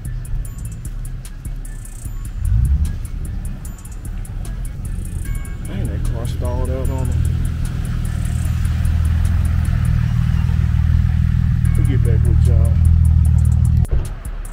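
A car drives past on a wet road in heavy rain, its tire hiss and engine swelling loud and close, then rising again over a steady wash of rain while a voice talks briefly.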